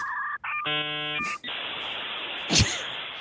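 Shrill electronic beeps in short bursts, followed by a harsh buzzing tone and a sharp click, loud and close.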